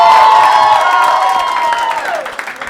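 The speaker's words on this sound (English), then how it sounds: "Round of applause for both of them." At a comedy club show, an audience claps and cheers loudly under a sustained tonal sound that bends downward and fades near the end.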